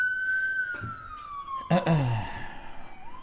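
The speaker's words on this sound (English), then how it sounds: "Running that siren, see if we can get this short going." A siren-style alert plays during a live trading stream: a single falling electronic wail, briefly interrupted by a spoken word partway through.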